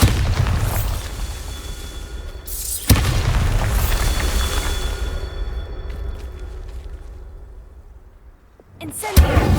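Bombarda explosion spell in the video game Hogwarts Legacy, two loud booming blasts a few seconds apart, each with a sharp crack followed by a long rumbling decay, then another burst at the end.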